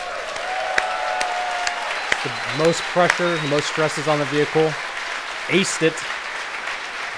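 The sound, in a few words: applause from crowd at SpaceX Falcon Heavy launch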